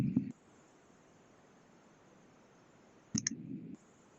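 A computer mouse click on a button, two short sharp clicks heard close, one at the start and another about three seconds later, over quiet room noise.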